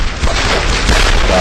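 A heavy, low boom from a grenade in the World War II shooter Brothers in Arms: Road to Hill 30, a single loud blast rumbling on without any speech.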